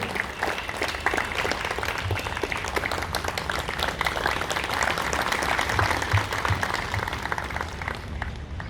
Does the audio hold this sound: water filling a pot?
no